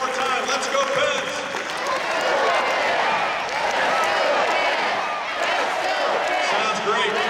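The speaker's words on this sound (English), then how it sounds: "one more Let's Go Pens cheer" A large crowd in the Pittsburgh Penguins' Consol Energy Arena roars through a 'Let's Go Pens' chant, with many voices merging into a loud, continuous, rhythmic swell that carries on throughout.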